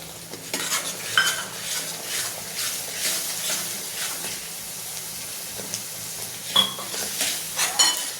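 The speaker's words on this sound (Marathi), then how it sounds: "आता त्याच्यात हा पालक टाकून घेऊ" Spinach is stirred into frying masala in a pan for a Marathi palak dish, with a spatula scraping and clattering against the pan over a soft sizzle, close and busy throughout with a few sharper knocks.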